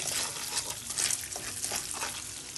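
Butter sizzling in a hot non-stick deep pan on a gas stove for popcorn: soft, fairly faint crackling hiss with small irregular pops, no voices.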